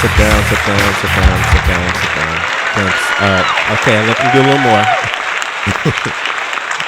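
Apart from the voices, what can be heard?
audience applause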